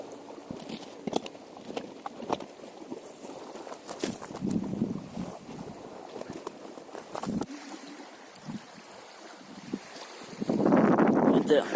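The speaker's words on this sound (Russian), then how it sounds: "И ветер этот еще давит." Gusty wind buffets the microphone, with low rumbling bursts and scattered knocks, rising to a strong roar at the end.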